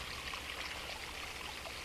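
Irrigation water drawn from the Ogallala Aquifer pouring and rushing steadily on high plains farmland, a constant close wash of flowing water.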